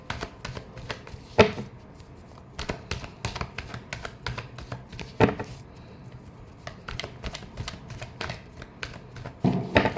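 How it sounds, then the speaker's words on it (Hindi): Tarot cards shuffled by hand in a quiet room, a steady run of soft riffling bursts and light slaps with brief pauses, close and fairly faint, with no voices. "Last shuffle."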